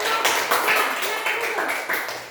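A group of schoolchildren clapping their hands in a sixth-grade classroom, brisk uneven bursts of applause close by, with voices mixed in.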